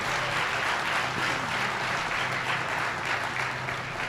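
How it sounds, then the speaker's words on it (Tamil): Audience applause at a speech in Tiruvallur, a loud sustained clapping of many hands throughout, steady and dense with no voices over it. "ரசித்து ரசித்து கைத்தட்டுகிற கூட்டத்தை நான் திருவள்ளூரில் தான் பார்க்கிறேன்"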